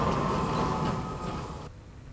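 A trolleybus pulls away from a stop on a route to Atherton, giving a steady mid-distance rumbling hum with an electric whine that fades near the end.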